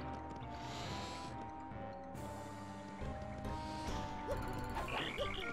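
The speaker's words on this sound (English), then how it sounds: "Listen to that noise. The cricket sounds." Night ambience in the video game Paper Mario: The Thousand Year Door, a dense layer of croaking, chirping creature calls over steady background music, with a few brighter chirps near the end.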